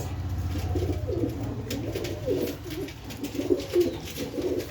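Several pigeons coo in repeated soft rolling phrases nearby at a pigeon sale, with a low steady hum underneath and no talking.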